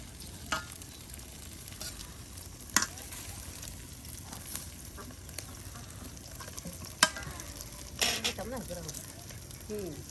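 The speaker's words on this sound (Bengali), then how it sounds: "তেলের সাথে আপনার মসমস হয়ে ভেজে নেওয়া হচ্ছে চিংড়ি মাছের বড়া" Prawn fritters deep-fry in oil during a winter-morning village cooking session, a faint steady crackling sizzle with occasional louder pops and stirring clinks, heard alone with no talk.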